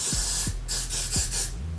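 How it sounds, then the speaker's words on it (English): Freeze spray hisses from an aerosol can onto slicked natural hair in three short bursts, close and steady, with brief pauses between them. "And spray some freeze spray."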